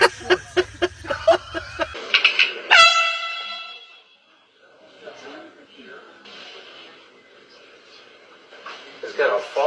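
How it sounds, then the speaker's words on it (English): An air horn set off in a prank, a single piercing loud blast after a run of quick thumps, followed by startled voices talking. "Oh, it was an air horn."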